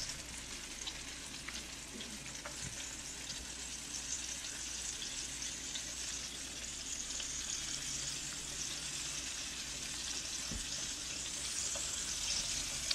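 Spare ribs deep frying in hot oil, a steady, dense crackling sizzle that holds evenly throughout with small pops scattered across it, close and continuous with no talking.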